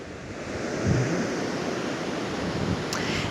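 Waves wash and roll continuously outdoors, a broad steady surf with a swell near the start and light wind buffeting the microphone, with no one speaking.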